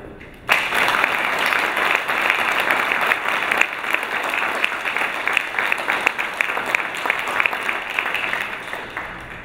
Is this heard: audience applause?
yes